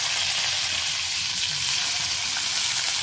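Chopped ginger, garlic and green chilli fry in hot oil in a kadai, giving a steady, close sizzle with faint crackles throughout and no talking.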